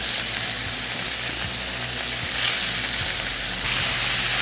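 Sirloin pieces for fajitas sizzle loudly and steadily in hot oil, a dense close hiss with a low rumbling hum underneath and a brief swell in the middle, with no voices.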